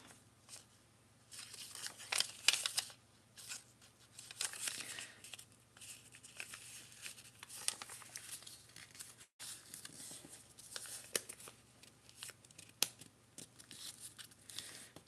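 Paper inserts being folded by hand, with crisp crinkling, rustling and creasing sounds in irregular bursts up close, and a brief pause partway through; no speech.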